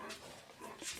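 A dog gives a short soft whimper or yip close by in a home pantry, a single brief whine lasting about a second with no talk.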